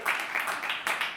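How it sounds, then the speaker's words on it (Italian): A small studio audience claps in a short, loose burst that swells and dips a few times, moderately loud, with no voice over it. "Facciamo un applauso sporadico"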